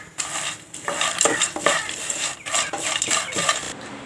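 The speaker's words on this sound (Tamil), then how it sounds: "கடலைப்பருப்பு எடுத்துருக்கோங்க, அதை சேர்த்துக்கோங்க. இது கூட லைட்டாக வந்து வறுத்துடுங்க" Peanuts dry-roasting in a kadai for Kovilpatti peanut candy, stirred continuously so they rattle and scrape against the metal in quick, close, busy strokes with a light sizzle underneath.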